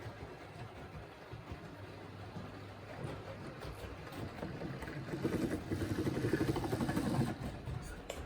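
A cheap Hornby King model locomotive's motor runs in reverse, a low, steady electric whir that swells slowly as the power is turned up, faint and close.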